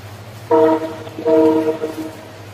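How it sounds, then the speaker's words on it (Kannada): A train on a village line in fog in the Malnad region sounds two loud, close horn blasts with a brief gap between them, over a low steady rumble. "ನಮ್ಮೂರಿನ ಟ್ರೈನ್ ಹೋಗ್ತಿದೆ, ಎಲ್ಲ ನೋಡ್ಕೊಬಿಡಿ."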